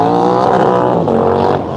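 An Indian motorcycle at MotoAmerica qualifying racing into a turn, a loud close engine roar that holds high revs then eases slightly as it passes.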